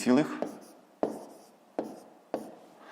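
Chalk or pen writing numbers for long division in a grade-5 math exercise: a short burst of speech, then three or four crisp scratchy strokes at even intervals, each fading out, close and quiet.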